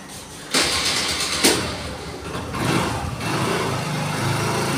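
A car engine cranks and catches, with a sharp start burst followed by a second surge, then settles into a steady rumbling idle, close and loud with no talking.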